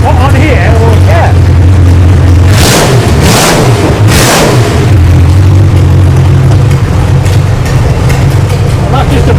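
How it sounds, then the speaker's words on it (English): Jaguar V12 9-litre XK land speed record car engine idling loudly nearby, then three sharp throttle blips roar up and fall back before the deep rumble settles again, with people talking over it. "another rev, will you?"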